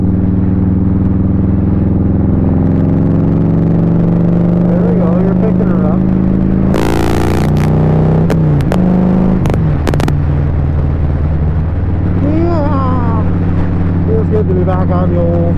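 Kawasaki Vulcan 1500 Nomad motorcycle cruising in daylight, a steady low engine drone and road rumble running throughout, with a burst of wind buffeting midway and a voice speaking over the engine.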